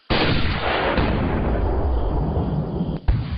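A gunshot from a hunting video game, one loud sustained boom that rolls and decays over a few seconds, followed by a second sharp crack near the end, with no talking.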